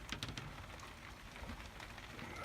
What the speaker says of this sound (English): You can hear the rain, it's absolutely teeming down at the moment.